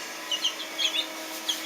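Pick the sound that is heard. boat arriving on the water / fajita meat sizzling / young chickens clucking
young chickens clucking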